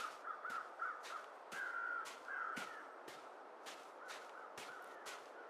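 Several crows caw repeatedly in the snowy wilderness of The Long Dark, harsh calls arriving in a steady run of about a dozen sharp bursts, moderately near and clear, with no talking over them.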